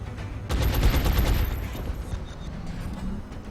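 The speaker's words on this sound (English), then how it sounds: "So this is what the heavy cannon was made for." Heavy cannon fire in XCOM: Long War, a rapid burst of loud, booming gunshots that opens sharply then thins into lingering rumble and faint scattered impacts, with no talk over it.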